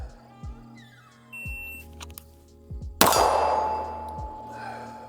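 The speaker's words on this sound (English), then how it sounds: "we're gonna be drawing and shooting at 20 yards" A single loud FN Reflex pistol shot cracks out at a 20-yard range after a drawing motion, its sharp report decaying with ringing, preceded by faint electronic timer beeps and metallic clinks.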